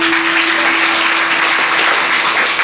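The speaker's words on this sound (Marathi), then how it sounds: "वाजवा की यांच्यासाठी जोरदार टाळ्या" An audience at a kirtan claps loudly and steadily for a few seconds, a dense continuous patter of many hands with a faint sustained tone beneath.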